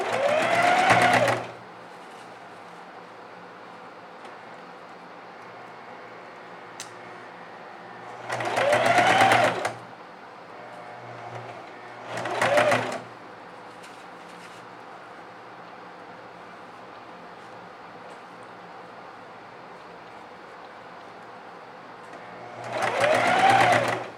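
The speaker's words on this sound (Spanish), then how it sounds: "Ahora sí vamos a realizar la costura con overlock." An overlock serger stitches a seam on a girl's dress in several separate loud bursts of whirring, each one to two seconds long, with near silence between them.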